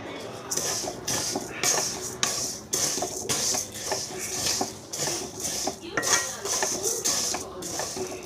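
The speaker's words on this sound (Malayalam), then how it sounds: "ഉഴുന്ന് നല്ല ചുമക്ക വറക്കണം" Urad dal is dry-roasted in a pan until reddish, and a utensil scrapes and clinks against the metal in repeated strokes about every half second, close and moderately loud.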